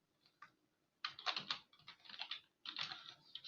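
Quick bursts of keystrokes on a computer keyboard as code is typed for a PHP programming lesson, close and fairly quiet, with short pauses between the clusters of taps.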